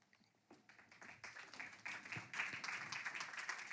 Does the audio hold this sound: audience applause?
yes